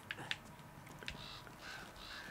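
Crows cawing in the video game Uncharted 2: Among Thieves, a few short harsh calls spread across a couple of seconds, fairly faint and alone over quiet ambient game sound.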